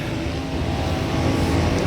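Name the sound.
noisy street traffic in Manila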